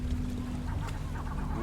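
Seagulls squawk out on open water near a ferryman's boat in the game Before Your Eyes: a few short, honking calls over a low, steady hum.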